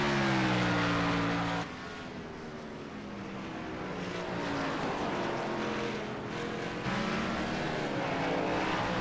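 Race car engines rumble and rise as the cars roll out onto the track, a steady loud drone with shifting pitch and one car pulling closer near the end.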